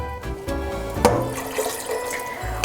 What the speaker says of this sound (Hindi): इसलिए अब हम इसमें 3 कप पानी ऐड करेंगे